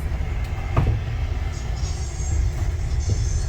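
A nine-carriage train rolls past nearby as a steady low rumble with faint wheel clicks and a high metallic hiss, with no talk over it.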